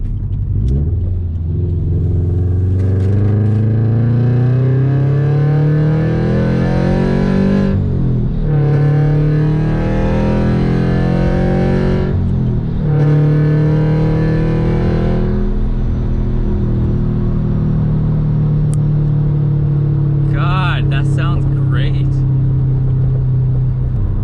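A Subaru BRZ engine with a custom 3-inch valved catback exhaust drones steadily, its pitch climbing through several gear changes with brief drops between shifts, loud and close throughout.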